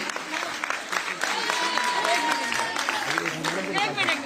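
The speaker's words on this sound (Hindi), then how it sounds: "Can you all please put your hands together one more time for Mr. Sanjeev Kumar, everybody?" An audience at a Women's Day celebration event claps steadily throughout, a broad, continuous wash of applause with a voice and some tonal sound carrying over it.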